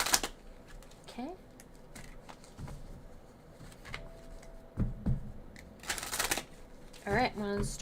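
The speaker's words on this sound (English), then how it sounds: "I'm going to start shuffling and see what comes out" Tarot cards riffled and shuffled by hand up close, a few crisp bursts of flapping card noise separated by quieter handling, with a voice speaking briefly in between.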